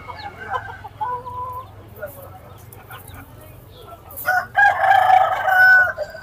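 A rooster crows loudly and close by amid a busy bird market selling pigeons, over a low hum of background noise, with people chatting nearby.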